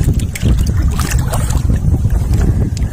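Strong wind buffets a small boat out on open water while gathering capiz shells, a loud steady roar with low rumbling gusts and water noise across the whole stretch.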